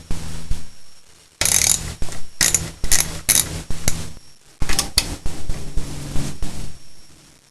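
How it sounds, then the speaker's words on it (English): A ratchet wrench loosens the 10mm bolts on a car engine's plastic belt cover, making quick, close, loud clicking bursts in several separate runs with brief gaps. "So the next step is to remove this plastic belt cover. It's bolted in 3 places, here, here, and here. And it's just regular 10mm bolts."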